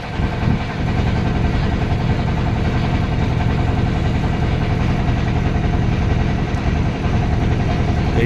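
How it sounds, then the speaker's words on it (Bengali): Steady, droning engine of a trawler boat running along a branch of the Meghna river near Tulatuli village, a constant low chugging rumble throughout with no break. "আস্তে আস্তে আমাদের ট্রলারটি সামনের দিকে চলছে।"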